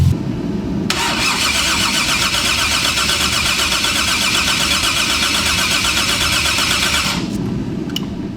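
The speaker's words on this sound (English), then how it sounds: "We're warming up the car right now again." A car with a Toyota 2JZ engine starts and runs steadily while warming up during a compression and leak-down check, a loud continuous engine drone lasting about six seconds before cutting off.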